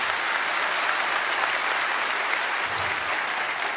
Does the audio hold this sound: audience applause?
yes